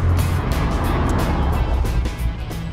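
A DeLorean with a 2.8-litre V6 engine drives along, giving a steady, loud, low engine drone and road roar throughout, heard close with no talking.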